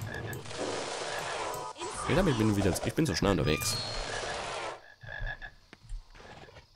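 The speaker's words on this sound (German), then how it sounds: "Okay, ich höre viele Frösche." Many frogs croak together in a chorus in the Harry Potter and the Philosopher's Stone video game, a loud layered concert of croaks under someone talking in German, fading toward the end.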